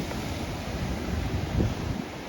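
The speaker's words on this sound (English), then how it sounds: "See, the waves are calm and gentle today," Gentle waves of the Arabian Sea wash in at Worli Sea Face, Mumbai, on a calm monsoon day, making a soft, steady rush of surf mixed with wind noise, faint and constant with no talk.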